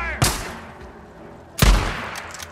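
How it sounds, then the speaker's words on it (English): Two loud, booming gunshots about a second and a half apart during covering fire in the video game Days Gone, each with a heavy low-end thump and lingering tail over a steady ambient bed. "Covering fire!"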